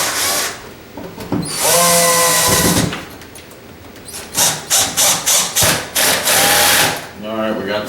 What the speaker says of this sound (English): whether these screws are going to be able to run all the way